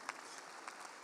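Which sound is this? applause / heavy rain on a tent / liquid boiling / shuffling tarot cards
applause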